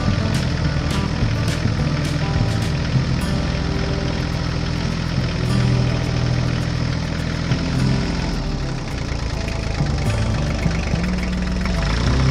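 A red tractor pulling a rake on a farm field runs with a loud, steady engine drone, a constant close rumble with no talking.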